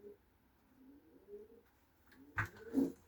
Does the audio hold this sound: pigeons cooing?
yes